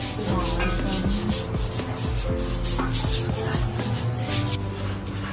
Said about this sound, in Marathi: कोलंबी साफ करून घेते।